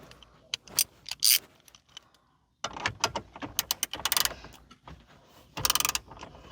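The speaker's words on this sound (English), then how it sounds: "The next step is to remove these 10mm bolts" Small 10mm bolts being unscrewed by hand from the dashboard of a 2013-2018 Toyota RAV4, giving close metallic clicks, ratcheting and jangling in irregular bursts with a brief quiet gap partway through.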